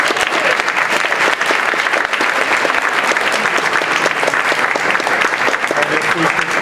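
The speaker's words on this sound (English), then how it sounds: "Let's give one more round of applause." People at a school board meeting give a loud, close round of applause, sustained crowd clapping with a few voices murmuring beneath it.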